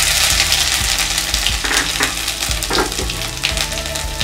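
Cumin, finely chopped ginger and samosa stuffing ingredients sizzle loudly in hot oil in a kadai, a dense, steady crackle with a few clattering stirs and scrapes throughout.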